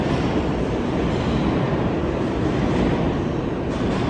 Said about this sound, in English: I think my train left.